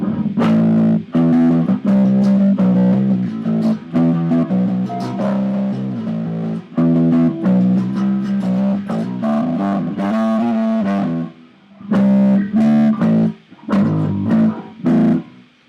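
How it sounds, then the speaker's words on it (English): Electric bass plays through a compressor pedal, with punchy, even-volume notes and a gritty, effected, dubstep-style tone in a busy rhythmic line with a few short pauses. "with the compressor you get an even sound"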